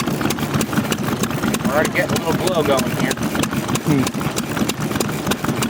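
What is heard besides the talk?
small display engine running at engine show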